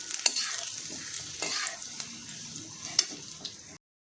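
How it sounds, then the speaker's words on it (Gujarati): Dates roasting in ghee in a pan make a close, steady sizzle with stirring scrapes and a few sharp spatula clicks, cutting off abruptly near the end. "હવે તેને આપણે આ રીતે અંદર ઘીમાં નાખી દઈશું। પહેલાં તેને શેકી લેવાનું છે થોડું ઘીમાં"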